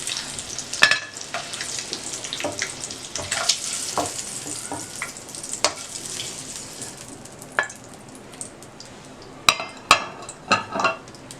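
Eggs fry in hot oil for a spinach egg curry, a steady crackling sizzle broken by sharp clinks and scrapes of a utensil against the pan, loudest in bursts near the end, with no talking.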